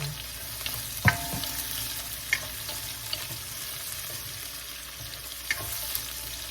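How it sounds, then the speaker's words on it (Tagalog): Onion sautés in a pan for chicken afritada, giving a low continuous sizzle broken by several sharp clicks of a utensil stirring against the pan, close up with no talk. "Atin pong medyo palalambot-lambutin ang sibuyas para po mabango."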